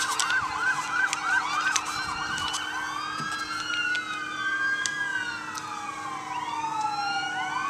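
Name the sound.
sirens passing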